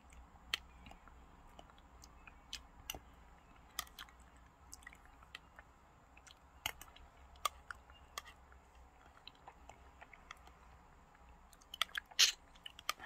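Jelly candy eaten secretly late at night, with scattered soft bites and squishy chews close to the mic, irregular and fairly quiet over a faint steady background hum, no talking.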